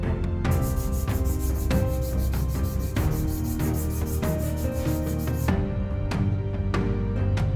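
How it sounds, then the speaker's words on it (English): Hand sanding of a hickory hammer handle for a blacksmith hammer restoration, worked with fine sandpaper up to about 400 grit: steady, continuous rubbing strokes close by, with a few sharp knocks and no talk. "I'm only hand sanding here to about 400 grit"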